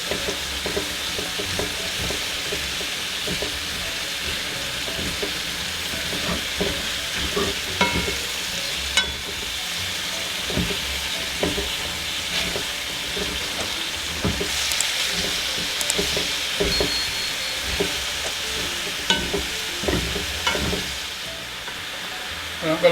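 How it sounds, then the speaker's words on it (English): Chicken curry ingredients, including Irish potato, are stirred in a pot for a Jamaican chicken curry, with steady sizzling and frying throughout and repeated scraping, clattering stir strokes up close; a brief voice is heard now and then. "I'm just going to give that a stir in."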